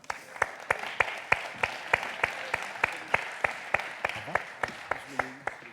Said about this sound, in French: je vais vous demander d'applaudir Nicolas Bouzou